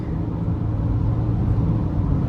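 Steady low rumble of a 2025 Ford Ranger Wildtrak V6 engine pulling hard under acceleration, heard from inside the cabin, constant and fairly loud with no voices.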